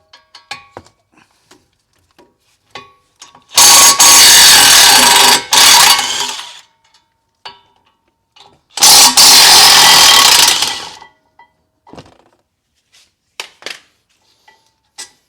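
On a Ford Escape, an impact wrench buzzes in two loud bursts of a few seconds each, zipping out the two 18mm caliper bracket bolts, with light clinks and tool handling around them.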